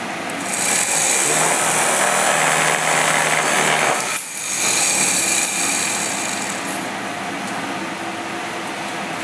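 A new-concept DC motor, marked with a reflective strip for RPM measurement, runs with a loud, steady high whine and broadband roar that dips briefly partway through before resuming at full strength.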